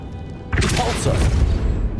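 A Repulso spell cast in Hogwarts Legacy on Switch erupts as a sudden loud blast about halfway through, then a rumbling, crackling tail with a voice over it.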